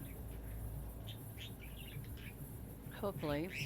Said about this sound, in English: I apologize for my birds